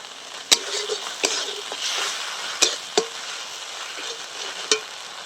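Vegetables for Bengali shukto frying in a pan, a steady high sizzle broken by several sharp spoon or spatula knocks against the pan as they are stirred, close and fairly clear with no talk.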